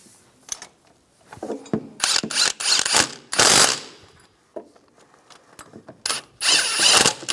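A ratchet tightens speed sensor bolts on a 1998-2010 Volkswagen Beetle, with irregular clusters of rapid clicking pawl bursts close up, separated by short pauses.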